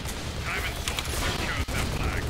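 Gunfire in the video game Tribes: Ascend: a steady, dense wash of rapid shots and mechanical clatter, loud and sustained, with a voice faintly mixed into the action.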